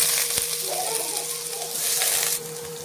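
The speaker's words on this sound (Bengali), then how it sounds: "এবারে দিয়ে দেবো কেটে রাখা আলু" Cut potatoes sizzle in hot oil with dry red chillies and nigella seeds, a steady close frying hiss across the whole stretch, swelling slightly near the end.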